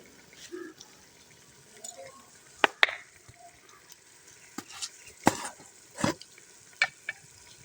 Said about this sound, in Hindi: और भून लेंगे अच्छे तक गलने तक